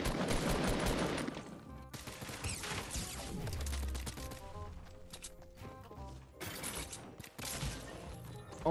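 Pistol shots ring out in Fortnite gameplay as loud, rapid bursts of gunfire mixed with mechanical clicks and game sounds, continuing in clusters with short pauses.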